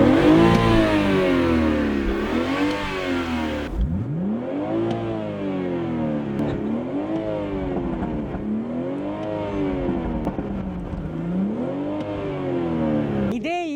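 The B58 twin-scroll turbocharged engine of a 2018 BMW 340i M Sport revs hard again and again, each loud, close pull climbing and falling back in a steady rhythm.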